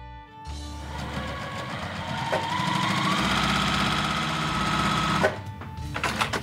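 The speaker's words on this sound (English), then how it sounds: "and then I'm going to sew them together" A sewing machine stitches quilt pieces together in a steady, fast whirring run lasting several seconds, starting and stopping cleanly, with a brief rattle afterward.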